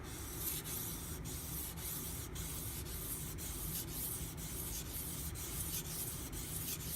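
An Aogami Super steel bunka knife is ground on a sharpening stone, making a continuous close abrasive rubbing with regular back-and-forth strokes, each pass marked by a brief pause, no talk.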